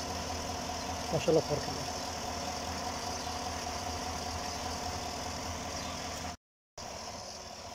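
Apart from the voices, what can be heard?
car engine idling after vacuum pump delete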